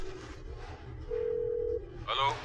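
A phone dialing in a tense confrontation, a steady single tone held for about a second over background murmur and low rumble, followed by a brief chirpy burst of electronic tones.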